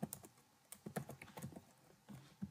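Keys clatter on a computer keyboard as code is typed, several quick bursts of close, quiet clicks with short pauses between them.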